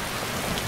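Steady rain falls in Skyrim Special Edition with a weather mod, a dense, even wash of patter without clear individual drops, continuous and moderately loud for a brief moment with no voices.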